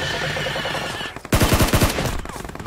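Machine-gun fire in a video game: a loud, rapid burst of about half a dozen close shots cutting in after a steady background drone, then fading.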